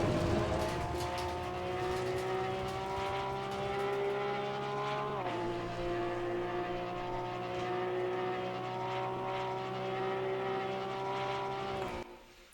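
A Porsche Cup car engine in the racing game Assetto Corsa Competizione at Monza, a strong steady high-revving whine with one quick upshift drop midway, loud and sustained, then cutting off at the end.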